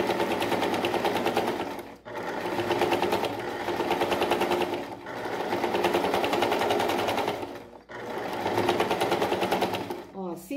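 A sewing machine stitches an appliqué fabric patch in steady, fast running bursts, pausing briefly about every three seconds as the fabric is adjusted, with a voice speaking over the stitching.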